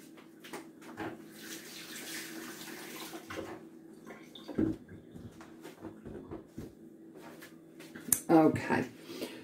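An onion is rinsed under running kitchen tap water, the splashing stream steady but modest, with a few louder splashes and clunks near the end and a person talking in places.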